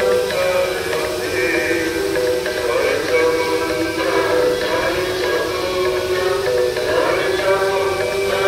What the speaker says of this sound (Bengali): বিশাল বড় একটা ফোয়ারা রয়েছে এখানে।